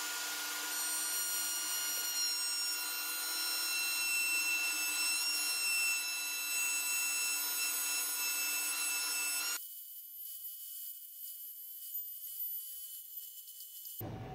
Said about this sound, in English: Got the flush trim bit set on the router, and I'm just going to take off the edges of these